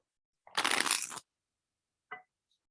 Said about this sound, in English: You know I love to shuffle.